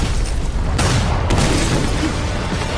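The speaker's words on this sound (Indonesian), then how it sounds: "Alhasil, semua tentara bayaran si jenderal berhasil menghancurkan markas Leon dengan bom" Two sharp, loud bomb booms burst one after another over a dense, roaring background, destroying an enemy base in an action film.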